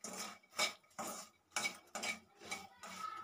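A spoon scraping and clinking against a pan while makhana (fox nuts) fry slowly, five or six distinct metallic scrapes in an uneven rhythm, close and clear, no voices.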